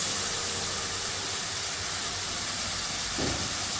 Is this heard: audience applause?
no